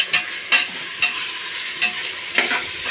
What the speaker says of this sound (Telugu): వేగిన తర్వాత కొబ్బరి పౌడర్ వేయాలి బాగా వేగిపోయి ఎర్రగా